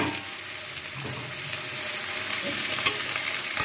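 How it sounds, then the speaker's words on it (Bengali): Potatoes fry in a pan for a black pepper potato dish, giving a steady close sizzle with occasional stirring scrapes and no talking. "এবার আলুগুলোকে ভালো করে ভেজে নিতে হবে, লাল লাল করে।"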